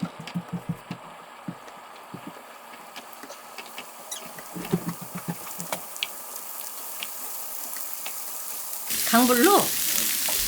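Onions fry in a little cooking oil in a frying pan, giving a light, scattered crackle and patter that grows slightly busier. A voice speaks briefly near the end.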